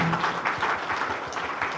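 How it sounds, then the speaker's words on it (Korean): Audience applause at the launch ceremony of a business ESG support centre in Hwaseong, a brief burst of steady crowd clapping at moderate volume. "여러분 따뜻한 박수 한번 보내주시면 감사하겠습니다."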